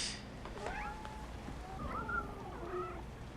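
A stray cat meowing faintly indoors, a few short rising and falling calls over a quiet, muffled background.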